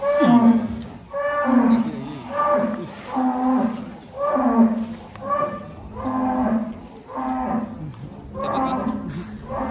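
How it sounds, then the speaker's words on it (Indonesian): Belgian Blue cattle at a farm contest give a long series of deep, drawn-out moos, about eight calls in steady succession, loud and close with crowd noise faintly underneath. "Nah, atraksi sapi Belgian berotot."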